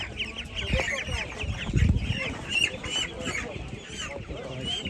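Chickens, ducks and geese at an outdoor livestock market in Kolomyia cluck, quack and honk in a busy overlapping chorus, with people talking nearby.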